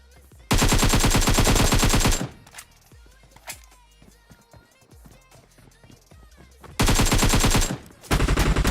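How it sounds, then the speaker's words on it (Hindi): Automatic gunfire in PUBG Mobile, set on the Erangel map in a solo-versus-squad match: two long, loud, dense bursts of rapid shots, with quieter game sounds and talking in the gap between them. "भाई कोई बंदा पीछे से फायरिंग करता है बैरल से"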